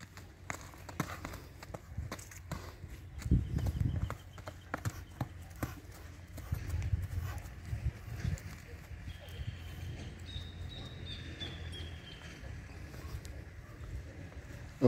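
A calm, shod pinto workhorse moves on hooves, giving a loose, uneven run of clip-clop steps at close range. A voice talks over it, and there are outdoor rustles and a faint bird note.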